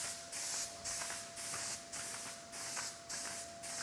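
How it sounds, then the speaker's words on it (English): Epoxy primer is sprayed onto a part from a 1995 Honda CR125 motorcycle in a series of short, regular hissing bursts from a spray gun, about seven passes with brief gaps between them, heard close with no talking. "So we're gonna start priming."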